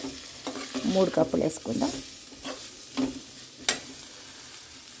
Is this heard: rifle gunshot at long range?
no